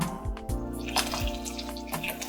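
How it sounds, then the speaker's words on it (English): Water is poured into risotto rice with vegetables cooking in a pan, giving a few soft splashes and drips over a steady hum, close and moderately quiet. "Now, I'm going to add some water."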